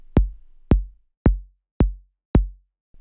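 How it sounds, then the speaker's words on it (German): A synthesized kick drum from Bitwig's P-O-Puncher device, struck five times at an even, steady pace; each hit is a punchy, deep thump with a quick pitch drop and a short decay, heard alone. "Das ist die Kick, die hört sich so an."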